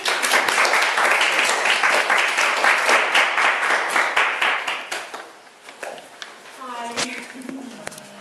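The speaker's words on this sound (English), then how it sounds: "please welcome Lorryn with a big round of applause." A crowd's big round of applause at a talk welcomes a speaker: dense, loud clapping for about five seconds that thins out into scattered claps, after which a voice begins speaking.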